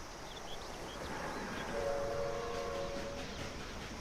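A train in The Franz Kafka Videogame, faint rumbling with a steady horn-like tone sounding for over a second in the middle, over quiet background noise.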